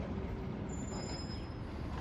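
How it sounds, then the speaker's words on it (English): Air brakes of a white garbage truck on a street, a faint, steady hiss with a thin high whine, heard from a distance over low road rumble. "white garbage truck."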